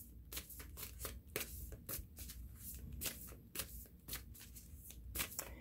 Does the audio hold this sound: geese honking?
no